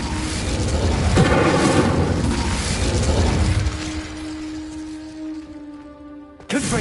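Incendio fire spell cast in Hogwarts Legacy, a loud burst of roaring flame and crackling impact that fades into a lingering tonal hum before a second sharp hit at the end.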